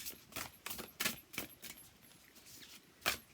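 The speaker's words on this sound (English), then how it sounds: "We'll give them a shuffle once more." Soft, quick papery riffling and flicking of tarot cards in a quiet room, with irregular taps and slaps in short bursts.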